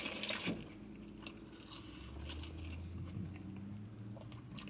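Close-up chewing of KFC chips, with a few soft crunchy bites and mouth sounds over several seconds, quiet and without speech.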